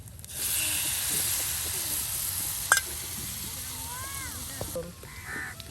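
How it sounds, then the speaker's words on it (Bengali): Ingredients frying in oil for a tomato chapa biryani with dal, a steady sizzling hiss under a speaking voice, with a bird cawing faintly in the background. "সব একসাথে দিয়ে এই যে দেখুন এখন সুন্দর করে তেলে ভেজে নেওয়া হচ্ছে"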